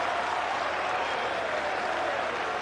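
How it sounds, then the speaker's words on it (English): A football stadium crowd at a women's tournament match applauds after a goalkeeping save, a dense, even wash of distant clapping and crowd noise held steady throughout. "Round of applause from all and sundry here at the stadium."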